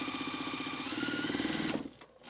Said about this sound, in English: Flip to the paper side and stitch on the line.